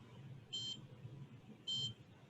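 Two short, bright electronic beeps about a second apart from a SkeeterSat sensor kit as its thermistor cools, clear and moderately loud over low room hiss.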